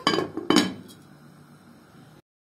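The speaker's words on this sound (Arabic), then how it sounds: "كده هنغطي عليه لحد ما يغلي" A metal lid set onto a cooking pot of rice and lentils, two sharp clanks in quick succession that ring out briefly before fading, close by with no talking.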